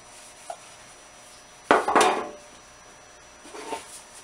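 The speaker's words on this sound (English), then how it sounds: "The key is to grease all the pans really well." Baking pans being greased for banana bread give a few clattering metal knocks and scrapes, one louder cluster in the middle and a softer rattle near the end, with no talk.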